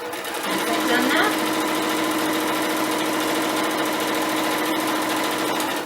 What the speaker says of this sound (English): So I'll just start sewing.